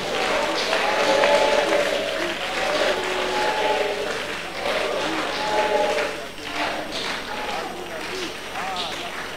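A church congregation at a prayer service claps steadily and loudly for several seconds, the dense rhythmic applause mixed with voices and shouts throughout.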